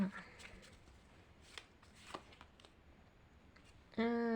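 Tarot cards being shuffled for a fortune reading, a run of soft riffling flicks and taps, close and quiet, ending in a sudden tonal chime.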